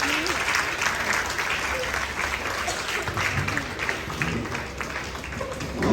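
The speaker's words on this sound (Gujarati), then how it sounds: "તાળીઓના ગડગડાટથી વધારીશું અને એમનો આભાર માનીશું" Audience applause at a school event for International Nurses Day, a steady dense wash of many hands clapping that continues evenly throughout, fairly close and full.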